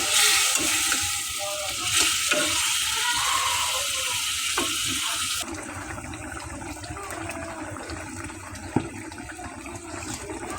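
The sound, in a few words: small Padma hilsa fish frying in pan with spices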